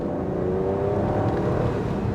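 Aston Martin Vantage V12 Roadster engine droning steadily at close range with a rising rev, loud and continuous throughout without clear distinct pops, no voices.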